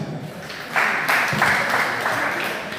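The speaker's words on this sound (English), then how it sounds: "Can we give him another applause?" Audience applause at a live youth federation event held at a technical institute in Koboko, rising partway through into a steady mid-level patter of clapping that holds to the end.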